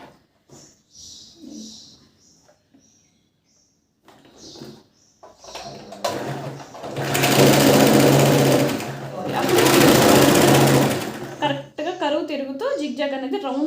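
A sewing machine stitches a princess cut blouse from the bottom seam, running loudly in two sustained bursts, with someone talking before and after the runs.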